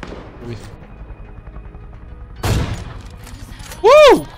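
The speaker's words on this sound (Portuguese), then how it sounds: "Que tiro foi esse?" Gunfire in the battle royale video game Knives Out: a single loud, sharp burst midway, followed by quieter echoes, then a loud tonal sweeping sound near the end.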